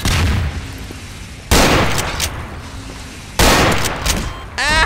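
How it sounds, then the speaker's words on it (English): Cannon fire in the Garry's Mod DarkRP video game: two loud booming blasts about two seconds apart, each followed by a decaying rumble, then a short burst of further noise at the end. "he was trying to kill me with a cannon"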